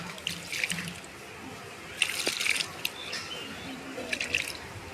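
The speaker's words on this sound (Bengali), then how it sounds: "আমি এখন এই জলটা দিয়ে দিচ্ছি, দেখা যাক গাছটা বাঁচে কিনা" Water is poured from close by onto a Bombay chili plant, a soft, quiet splashing trickle with a few brighter bursts at intervals over several seconds.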